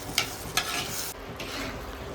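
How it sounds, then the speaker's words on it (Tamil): Onion, tomato and prawns sautéing in hot oil for a prawn kuzhambu, a steady close sizzle with two sharp scraping stirs of the spoon early on, no talking. "இப்போ வெங்காயம் தக்காளி இறாலாம் போட்டு நல்லா வதங்கி வந்துடுது"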